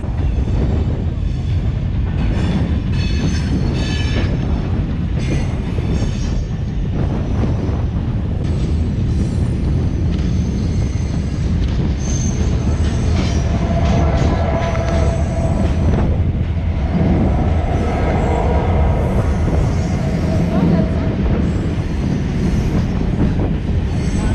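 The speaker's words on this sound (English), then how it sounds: "So there is the fully loaded ore train heading to Noadhibou." A heavy, fully loaded Sahara iron ore freight train rumbles past steadily, a loud continuous roar of wheels and cars with faint metallic squeals, filling the whole stretch.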